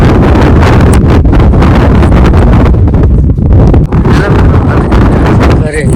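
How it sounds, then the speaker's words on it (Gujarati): A cool wind blows hard across a deserted open place, buffeting the microphone with loud, rough roaring gusts that dip briefly and then surge again throughout. "ઠંડો ઠંડો વાયરો મિત્રો"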